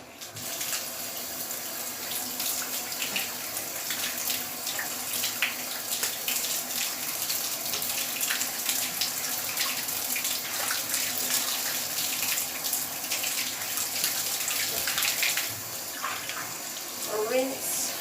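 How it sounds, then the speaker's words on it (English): Tap water runs steadily into a sink while soap is rinsed out of a finished cross-stitch fabric, a continuous splashing hiss lasting throughout with small sloshes as the cloth is moved. "I'll rinse this out quickly just to get soap out of it"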